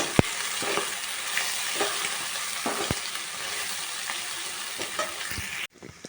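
Egg fried rice ingredients being stir-fried in a pan, giving a loud, steady sizzle punctuated by sharp spatula scrapes and knocks, which cuts off abruptly near the end.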